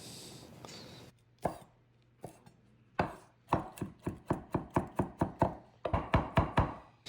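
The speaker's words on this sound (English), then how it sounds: "I'm going to do the same and make finely minced sage." A knife finely minces fresh sage on a cutting board: a few scattered thuds, then a quick, even run of sharp chops, close and clear with no talking.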